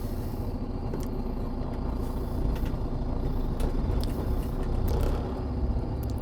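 A tractor trailer rumbles low and steady as it pulls ahead, its engine and drivetrain noise close and continuous with no voices.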